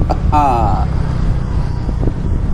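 Modenas Kriss 125 FI motorcycle pulling away and accelerating on a test ride, a steady close engine drone with wind rush, overlaid by a rider's excited whoop and voice.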